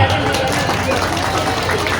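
An audience applauds at the opening of a village cultural festival during an official's speech, a dense, steady wash of clapping that holds for the whole stretch with crowd murmur mixed in.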